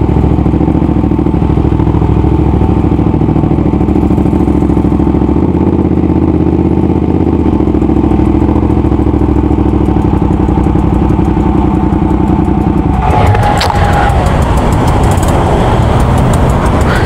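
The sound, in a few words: Ducati Panigale V2 2025 motorcycle riding at speed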